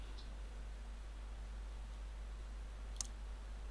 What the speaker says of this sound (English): and I'm clicking next turn.